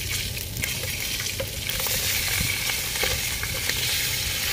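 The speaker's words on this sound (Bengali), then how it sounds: "এখানে মাছটা ভাজা হইতেছে" Fish frying in a pan of oil outdoors in a Saudi desert at night, a steady dense sizzle running throughout with occasional stirring clinks, fairly close and constant in level.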